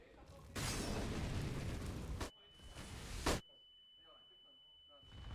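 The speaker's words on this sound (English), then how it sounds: "these flashbangs just all landing in Nekis' face" Flashbang grenades go off in Counter-Strike on the Overpass map: two loud, harsh back-to-back blasts, followed by a thin, steady high-pitched ringing as everything else falls quiet, with faint voices in the background.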